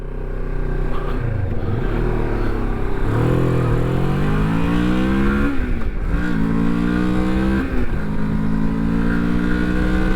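A Moto Morini X-Cape 649 motorcycle engine revs up and down repeatedly, its pitch rising and falling in deep, throaty sweeps, loud and close with no talking.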